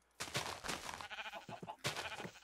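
Sheep bleating in the Minecraft video game, a few close, loud bleats in quick succession.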